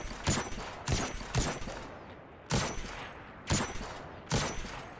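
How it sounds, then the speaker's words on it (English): Rapid bursts of scout rifle gunfire in the video game Destiny 2, five or six sharp cracking shots in uneven pairs, close and loud with no talk. "I don't like the sound, it's not a big booming gun sound."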